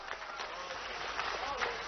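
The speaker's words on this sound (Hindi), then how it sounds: "ताली वाली बजा के खोलना चाहिए क्या?" An audience claps at a government ceremony in Bhopal, a steady, moderately distant patter of many hands that continues throughout.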